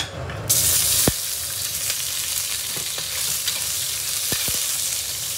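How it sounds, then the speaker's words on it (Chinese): Pork belly sizzles and fries in an oiled wok, a steady close hiss of hot fat with a loud splash as the meat goes in and occasional sharp crackles and stirring clicks. "先把五花肉给它放进去煸一下啊。"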